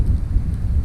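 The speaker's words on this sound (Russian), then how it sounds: "Дождь такой сильный." Heavy rain pours down in a continuous dense roar outdoors at a lake during bad weather, with a deep rumbling undertone and no voices.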